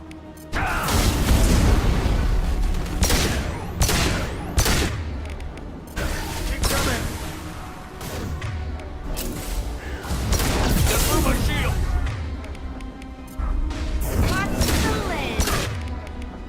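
Loud, dense gunfire from a firefight in Mass Effect 2, with rapid bursts and heavy booms repeating across the whole stretch and shouted voices mixed in.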